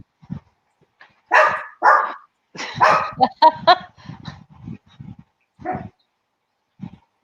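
Dogs bark in a series of sharp, fairly close yaps and woofs, some in quick pairs and clusters with short gaps between, mixed with a few soft whimpers; a person speaks briefly near the start and end.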